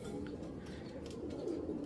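Racing pigeons of a foreign bloodline coo in low, steady murmurs, a continuous soft rumble from several birds close by with no talk.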